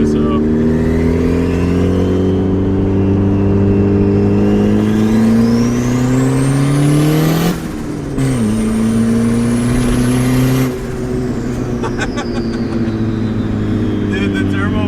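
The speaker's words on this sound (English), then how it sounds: "the turbo flutter is so slow now with all that intercooler pipe on there" Big-turbo Honda Civic engine revving loudly and close, with rising and falling harmonic pitch sweeps, a brief drop near the middle, and a fluttery whir as the revs fall; a voice talks over parts of it.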